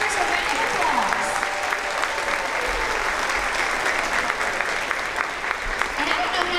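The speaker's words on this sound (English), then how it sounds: "Let's give our dance team members a round of applause." Audience applause at a fourth grade promotion ceremony for dance team members: sustained, dense clapping from a large crowd indoors, steady and loud throughout with faint voices mixed in.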